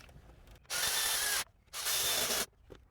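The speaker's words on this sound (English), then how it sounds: "We'll go ahead and bolt that guy down." Two loud, close bursts from a power tool, each lasting under a second, drive down the bolts on the throttle body of a 2009 Kia Borrego V6. Quiet pauses separate the bursts.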